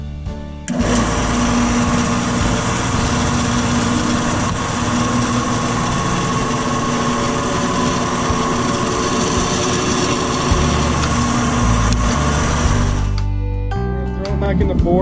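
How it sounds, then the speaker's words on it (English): A drill bores a keychain hole through a small forged steel knife, a loud continuous high-pitched motor whine running for about twelve seconds before spinning down, with voices underneath. "We're going to drill the hole out for the keychain part now."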